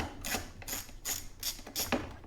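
A socket wrench ratchets as carburetor nuts are loosened on a Poulan PL3314 chainsaw, making five short bursts of clicking at a regular pace, close up and with no talking.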